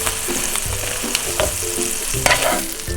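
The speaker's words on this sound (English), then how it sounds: "now I'm just going to flip the" A grilled cheese sandwich of bread spread with butter and pesto fries in a hot buttered pan, giving a steady close sizzle with soft scrapes and thuds as it is flipped.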